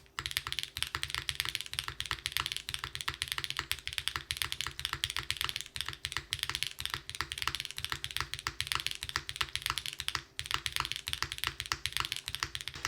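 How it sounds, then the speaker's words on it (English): Rapid, continuous typing on a Neo75 CU mechanical keyboard, close and crisp, with dense keystrokes and brief pauses around the middle and near the end, no voices. "Spacebar does sound a little different from the left to the right."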